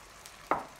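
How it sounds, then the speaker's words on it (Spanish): Vinegar poured into a pan of vegetables frying with paprika sets off a short, sharp sizzle midway through, a sudden hiss that fades quickly into a low crackle. "Y ahora añadimos el vinagre"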